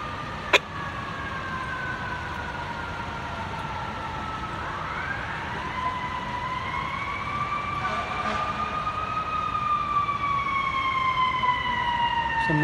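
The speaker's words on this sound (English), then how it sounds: "Another engine, probably 76." FDNY fire engine siren wails continuously across a city street, its pitch sweeping and rising as the engine approaches while responding to a fire on Broadway, loud over steady traffic hum with a single horn blip early on.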